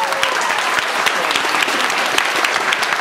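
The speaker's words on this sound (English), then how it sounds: "Give a round of applause for them." Audience at a small live music show applauds steadily and loudly for the merch table crew, a dense wash of many hands clapping without letup from start to finish.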